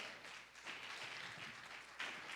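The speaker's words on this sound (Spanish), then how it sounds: "¿Cuánto le da un aplauso al Señor en esta hora?" A church congregation applauding during a service, a continuous soft patter of many hands clapping with a small swell near the end, fairly quiet overall.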